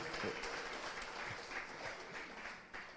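Congregation applauding during a church service, a sustained wash of many hands clapping, fairly faint and distant, with some voices mixed in beneath.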